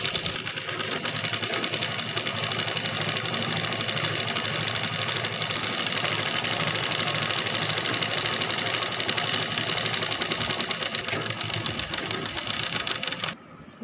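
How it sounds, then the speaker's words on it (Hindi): An electric sewing machine runs steadily, stitching a folded fabric belt for a salwar along its edge. The loud, continuous mechanical whir and rapid needle chatter last throughout, with no speech. "सीधी सीधी बिल्कुल किनारे से हम सिलाई लगाते चलेंगे।"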